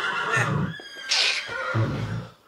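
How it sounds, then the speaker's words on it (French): A horse whinnies and snorts in a rural scene from a zombie drama series, with a high shrill neigh in the middle flanked by breathy nasal blows, close and fairly loud, no talk. "Voilà, bon cheval."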